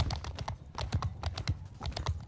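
Horse hooves clip-clop in Mount & Blade Bannerlord, a quick, uneven trot of sharp hoof strikes close by, fairly loud and steady, with no talking.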